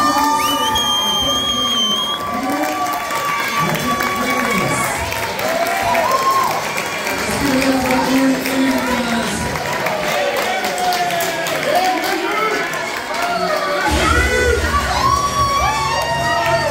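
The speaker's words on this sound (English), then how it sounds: "So let's give a big round of applause, ladies and gentlemen." Wedding reception guests applauding and cheering at the entrance, a continuous crowd roar of clapping, whoops and shouts while an announcer's voice carries over the noise.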